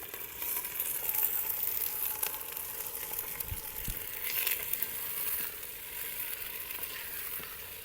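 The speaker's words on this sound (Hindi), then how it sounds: "तो यहाँ पे चिकन जो है ना इसको हम फ्राई कर लेंगे" Chicken frying in a pot over a village mud-house cooking fire, a steady close sizzle and hiss with occasional stirring scrapes and light crackles.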